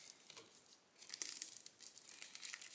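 Plastic film is pulled off the corners of a painting canvas, a close crinkling and tearing rustle that grows louder partway through and continues in soft, uneven bursts.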